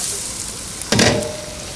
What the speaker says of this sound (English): What you want to do is have a boiling pot of water. Oh, yeah, it's going now.